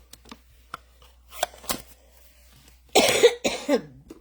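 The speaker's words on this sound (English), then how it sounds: "I did not have this cough before I tried to get online" A few faint clicks and rustles, then two loud, rough coughs close by near the end.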